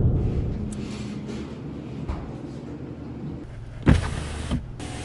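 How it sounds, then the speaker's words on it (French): A car's power window hums as it opens, a low motor drone over road noise while the car drives on city streets. A couple of sharp knocks sound near the end. "désolé si vous entendez à l'extérieur, j'ai ouvert ma fenêtre"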